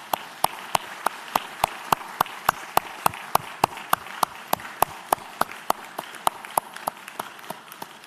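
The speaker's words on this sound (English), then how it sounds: "please give them a round of applause" Clapping at a university graduation ceremony comes as a steady, evenly spaced run of about twenty sharp claps, loud and distinct over a quiet hall background.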